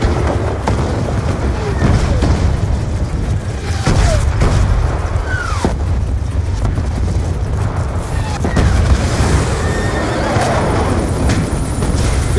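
A horse neighs and whinnies in Call of Duty Black Ops 2 over constant battle noise, with distant booms and gunfire in a valley. Several short calls rise and fall, and faint voices come and go.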